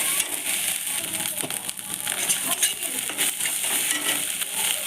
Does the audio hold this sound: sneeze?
no